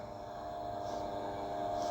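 A three-phase electric motor on a contactor control training bench starts and runs, giving a steady, fairly quiet hum with a constant tonal whine that holds evenly for the brief moment, no voices heard.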